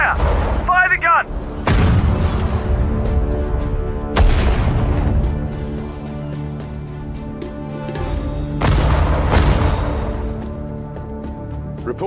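Heavy artillery guns fire in the Sudden Strike 4 desert-war strategy game, with several loud booming blasts spaced a few seconds apart, each leaving a long rumbling decay, while game voices call out in between.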